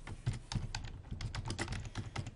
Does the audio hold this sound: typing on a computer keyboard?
yes